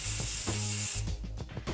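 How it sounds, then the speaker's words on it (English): Dry shampoo aerosol sprayed onto the scalp during a curl styling session: a steady close hiss that runs for about a second, then cuts off, leaving a few small clicks and handling sounds. "just shake it up and spray it right into our scalp"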